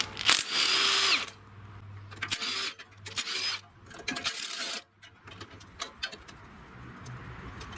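A power tool with a 1/2-inch socket spins off the engine head bolts on a John Deere lawn tractor, sounding as several short, loud, close whirring bursts separated by pauses and clinking.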